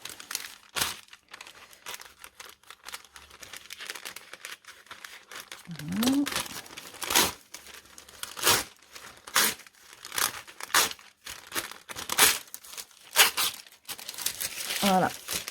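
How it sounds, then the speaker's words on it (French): Paper backing peeled away and crumpled by hand at a sewing table while a camisole is made, giving repeated crinkling and tearing rustles in short bursts with a voice speaking now and then. "J'enlève mon petit papier."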